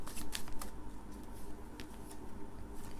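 Tarot cards are shuffled by hand close up, a rapid run of soft riffling slaps and flutters repeating in short bursts for a few seconds, with no talk over them.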